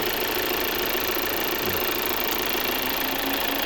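Volvo S60 Cross Country 2.0 D3 diesel, 150 hp with automatic gearbox, running steadily in a low, even drone with faint knocking texture and no talk.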